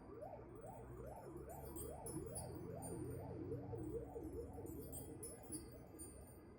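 A wailing siren sweeps up and down in a steady repeating cycle, faint and distant, with a faint clinking above it.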